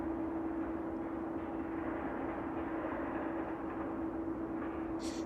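Cargo aircraft at East Midlands Airport on a chilly evening, a steady loud engine roar with a constant hum, continuous and fairly near throughout with no talk.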